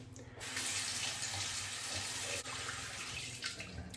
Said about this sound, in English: Now a cold water rinse to the face and then rinse out your razor thoroughly.